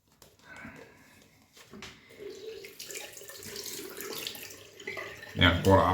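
Water runs from a bathroom tap during a wet-shaving routine, a soft hiss and splash building over several seconds and ending in a louder, close rush of water.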